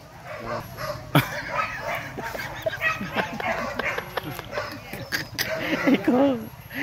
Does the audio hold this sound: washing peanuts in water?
no